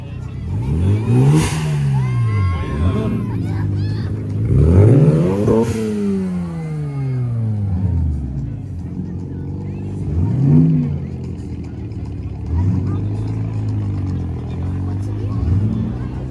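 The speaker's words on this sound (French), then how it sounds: "Celle-là elle fait un bruit, elle fait des flammes, celle-là, les RX-7." Mazda RX-7 at a car gathering, its engine revving in repeated rising and falling sweeps, loud and close, with people talking nearby throughout.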